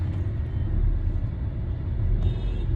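Steady low rumble inside a moving car, a dense broadband drone concentrated in the low end that holds at an even level throughout with no voices.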